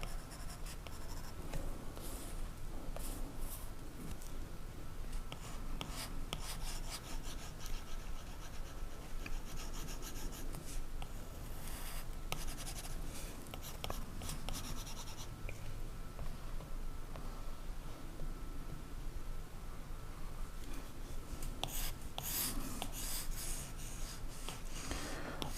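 A pencil shades in dark areas of a drawing for a reproduction of an 18th-century dice game board, giving a steady, close scratchy rubbing that runs continuously without talk.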